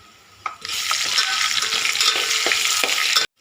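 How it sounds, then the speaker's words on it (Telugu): Ginger garlic paste frying in a pan for khichdi, a loud, steady sizzle that bursts in suddenly and runs on with faint stirring scrapes before cutting off abruptly. "ఇప్పుడు ఇందులోకి ఒక టేబుల్ స్పూన్ అల్లం వెల్లుల్లి పేస్ట్ని కూడా వేసుకొని పచ్చివాసన పోయేంత వరకు బాగా ఫ్రై చేసుకోవాలి"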